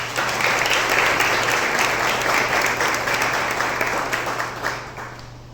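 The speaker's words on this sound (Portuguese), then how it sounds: "Bora aplaudir o Senhor, meus irmãos" A church congregation bursts into dense, even applause, loud and continuous, easing slightly toward the end, with a constant low hum beneath the clapping.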